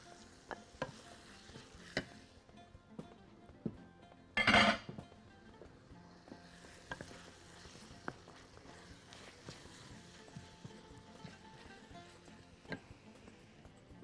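Liver goes into a pan already cooking onions, with one loud burst of sizzle followed by steady frying crackle and scattered clicks of a utensil against the pan, close and alone without talk.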